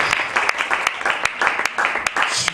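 A church conference audience breaks into lively applause, dense steady clapping that carries on throughout at close range.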